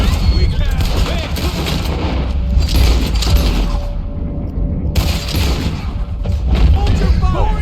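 Gunfire and explosive booms in the open-world western video game Red Dead Redemption 2, a dense stretch of shots and low rumbling impacts mixed with game speech and background noise.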